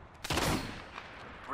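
Gunfire in the Apex Legends video game, a brief burst of close shots hitting hard about a quarter second in, then a rougher fading rattle under game noise.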